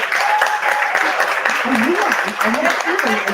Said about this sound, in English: can you please give a round of applause to my friend Jennifer Bonine